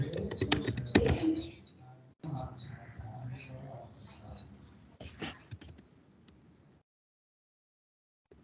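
Quick clicking keystrokes on a computer keyboard during an SAP FICO lesson, heard under a voice speaking Telugu, with bursts of typing followed by quieter pauses and near silence at the end.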